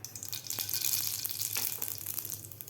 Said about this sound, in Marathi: यामध्ये घालायची आपल्याला मोहरी